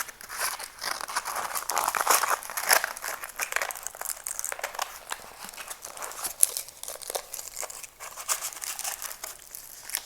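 A diamond painting canvas is turned over, making close, continuous crinkling and rustling of stiff plastic-covered material with no talking.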